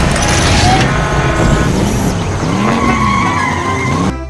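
A loud toy race car sound effect of Lightning McQueen, with a revving engine and squealing tires, continuous and close, sliding up and down in pitch.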